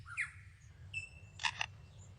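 A forest songbird mimics a camera shutter, giving a faint, quick mechanical click pair after brief whistled notes, heard alone in a quiet setting.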